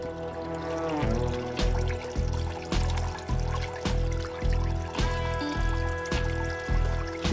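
Water streams steadily over a Miller table carrying wet gold concentrates, a continuous close trickle and splash with a regular pulsing rhythm running underneath.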